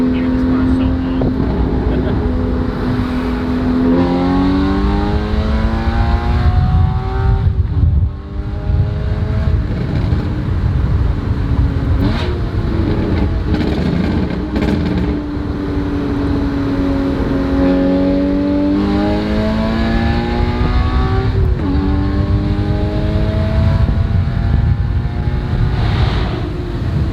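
A stock Porsche GT4 engine drones and rises steadily in pitch over a long pull in second gear, loud and close, with a brief dip partway through and voices talking over it.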